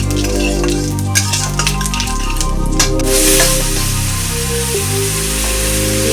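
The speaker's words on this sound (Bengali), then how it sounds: "ওই তেলে আমি দিয়ে দেবো জিরে ফোড়ন, জিরে দিয়ে দেবো, জিরেটা হয়ে যাবে।" Cumin seeds sizzling in hot oil, a loud dense crackle and hiss filling the pan, with a low droning hum underneath and brief clinks early on.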